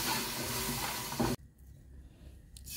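Fish and spices frying in a pan, a loud sizzling hiss that runs for over a second and then cuts off abruptly, leaving a quiet room with faint movement.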